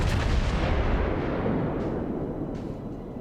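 Heavy naval guns boom in World of Warships, with an Iowa battleship firing a broadside near a Montana; a dense, continuous low rumble of blasts fills the space loudly, with no pauses between shots.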